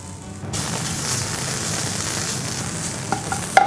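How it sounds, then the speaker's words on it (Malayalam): Grated coconut roasts in a pan for a chickpea curry, a loud close sizzle bursting in after a quiet start and running steadily, with a few scraping stir clicks near the end. "തേങ്ങ വറുത്തെടുക്കുക."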